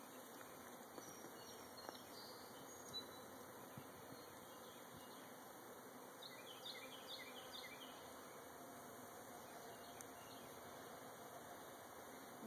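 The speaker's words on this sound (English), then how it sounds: "So what I'm gonna do here is just sort of brush them in a little." Honeybees buzz steadily while being brushed into a new hive, a dense, continuous hum of many insects close by, with no talking over it.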